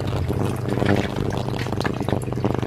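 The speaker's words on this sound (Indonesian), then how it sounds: "ini aku semuain cukanya" Vinegar pours steadily into a pot while making Hong Kong style pickled ginger, a continuous close liquid stream with a light splashing texture throughout.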